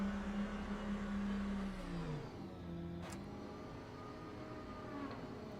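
A V12 hybrid race car engine in a sim racing game drones at a steady pitch, then drops in tone and fades to a quieter, lower hum as it slows, with a faint click partway through.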